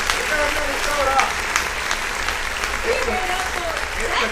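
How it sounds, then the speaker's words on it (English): Audience applause for a DJ at a live show, steady clapping with some crowd noise throughout, fairly loud and sustained. "can I get a round of applause for the DJ?"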